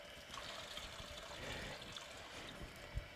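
Hot water poured through a grain bag during a beer brew day, a soft continuous trickle and splash, quiet and steady for a few seconds without talk.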